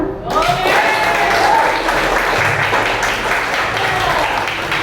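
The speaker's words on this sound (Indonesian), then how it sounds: "Terima kasih tepuk tangannya." A seated audience at an Indonesian dissemination event claps warmly and steadily throughout, a full even patter at fairly close range, with a voice faintly audible over it.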